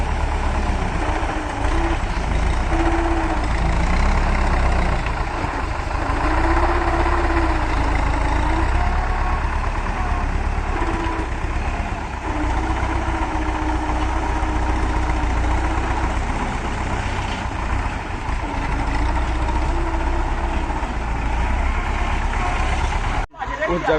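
A loaded tractor with a soil-filled trolley idles steadily, its low diesel rumble continuous and close for the whole stretch, with speech running over it and a sharp knock near the end.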